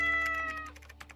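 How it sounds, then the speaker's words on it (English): A cat gives a single drawn-out meow, clear and near, that fades into quiet clicking like keyboard typing. "Let's see if he's got a meow today."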